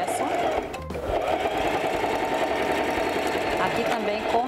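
A sewing machine stitches vintage suede with a steady, fast mechanical chatter, briefly pausing as it reverses for a backstitch and then running on continuously.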